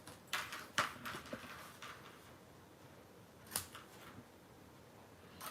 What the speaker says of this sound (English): we're just going to snip the corners off of each of these tabs